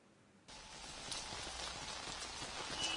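After half a second of quiet, heavy rain starts suddenly and goes on as a dense, steady hiss of drops on surfaces, fairly close and even, during monsoon flooding in the Nashik area.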